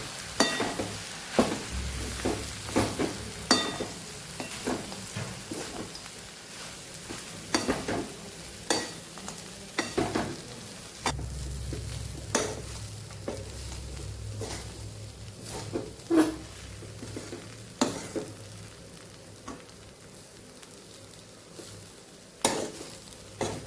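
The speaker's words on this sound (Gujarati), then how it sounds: "તો આ સ્ટેજ ઉપર આપણે પૌવાને અહીંયા ઉમેરી દઈશું। લીલા ધાણા ઉમેરી દઈશું, માંડવીના દાણા ઉમેરી દઈશું, બધું સરસ આપણે હવે મિક્સ કરી લઈશું।" Poha with tomatoes, coriander and peanuts is stirred in a frying pan, a soft continuous sizzle broken by regular scraping clacks of the spoon against the pan, close and fairly quiet.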